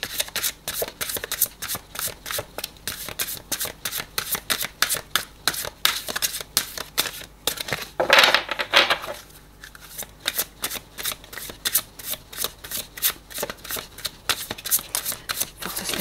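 Tarot cards are shuffled steadily and close by before a reading, a long run of rapid riffling and flicking with a brief louder burst midway, and no talk over it.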